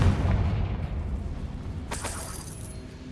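Hogwarts Legacy's Confringo explosion spell goes off as a booming blast from a low rumble, followed by a bright crackling burst that fades into a faint tail, with no voices.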